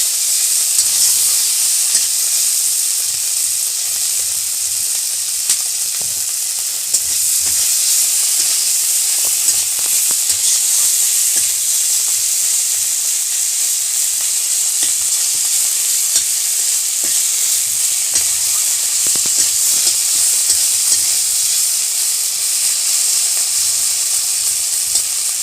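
Tomato and other soyabean malaikari ingredients, salted, fry in a pan with a loud, steady sizzle and hiss, broken by light scraping stirs throughout, with no talk.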